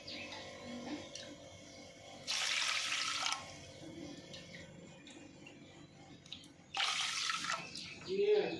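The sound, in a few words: water being poured onto washed samba grain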